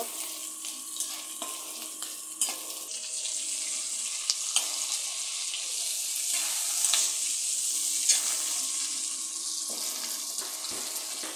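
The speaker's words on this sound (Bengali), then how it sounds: "আমি এগুলা মাছ ভাজার তেলে দিয়ে দিলাম। পেঁয়াজ কাঁচামরিচটা" Sliced onion and green chillies fry in oil left over from frying koi fish, a steady bright hiss and sizzle with occasional soft stirring scrapes.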